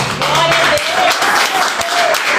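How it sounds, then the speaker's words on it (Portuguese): A church congregation applauds steadily and loudly during a worship service, a dense wash of clapping with voices mixed in underneath. "Você pode aplaudir o Senhor Jesus?"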